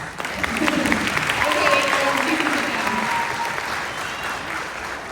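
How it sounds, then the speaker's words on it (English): An audience applauds at a children's sistema concert with a broad, even wash of clapping that swells slightly and then fades, while a voice speaks over the crowd. "And we'll give these guys an applause."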